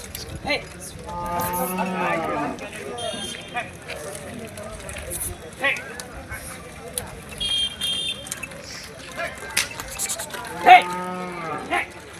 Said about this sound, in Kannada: ಎತ್ತುಗಳು ಸೇರ್ಲಿಕ್ಕತ್ತಿದ್ದಾವೆ ಇವತ್ತು ಮಾರ್ಕೆಟ್ನೊಳಗೆ.